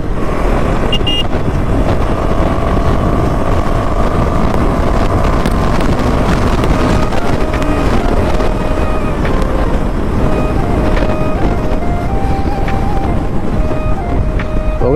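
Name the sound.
motorcycle ride with Akrapovic exhaust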